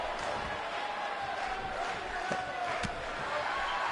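A capacity crowd fills a WWE wrestling arena with a steady, loud roar, with a few faint slams and thuds from the ring rising briefly above the constant noise.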